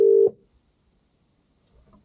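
A telephone line tone heard while calling a business number, one steady loud beep lasting about a quarter second, then near silence.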